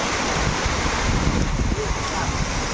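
Savatkada waterfall in the Konkan region during the monsoon: a loud, constant broadband rush of falling water blended with wind buffeting the microphone, steady throughout.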